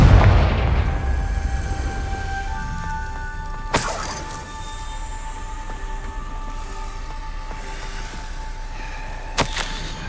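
Confringo fire spell explosions in Hogwarts Legacy: two sharp booming blasts several seconds apart, the first louder, over a low rumbling game ambience with lingering ringing tones and no speech.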